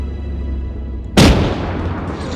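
A rocket launcher fires at a Scorpion tank in a military video game, a single loud, sharp boom after a quiet stretch, followed by a rumbling tail that fades slowly.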